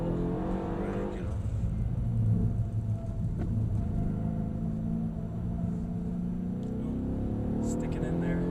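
A Mercedes-Benz E63 AMG rounds a bend at Mercedes-Benz World in Brooklands, its engine rumbling loud and steady from inside the cabin with a rising drone, while someone talks over it.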